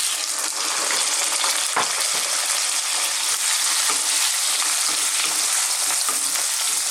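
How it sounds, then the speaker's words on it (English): Potatoes hit hot oil on high heat and fry into fries, a loud, dense, continuous sizzle with no talk over it. "Now we're going to drop in our potatoes."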